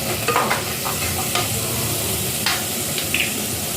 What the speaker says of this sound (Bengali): ভালো করে একটু লাল করে ভেজে নিচ্ছি হলুদ দিয়ে দিলাম